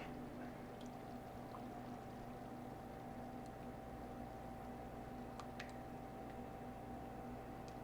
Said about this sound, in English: So now it's time to add some coconut milk.